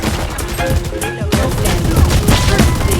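Rapid gunfire from the video game Valorant rattles in loud, close bursts of overlapping shots, with a short break near the middle before the shooting resumes.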